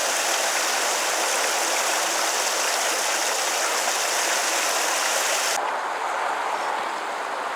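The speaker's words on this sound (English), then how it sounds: "you can see quite a flow from the locks that are being drained" Water rushes steadily out of canal locks at Watford as they are drained during gate replacement works, a loud continuous roar of flowing water that drops sharply in its upper hiss near the end.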